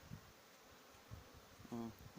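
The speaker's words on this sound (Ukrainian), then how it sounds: "Бджоли йде пилок. Працюють, літають через верхній льоток." Honeybees fly in and out at the upper entrance of a hive in an apiary in early spring, carrying pollen; a faint, low buzzing swells in short bursts, with one louder close pass near the end.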